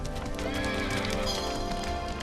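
Squadrons of cavalry horses escorting a religious procession in ancient Athens clop steadily on the ground with whinnies mixed in, a dense, continuous mass of hooves at moderate loudness throughout.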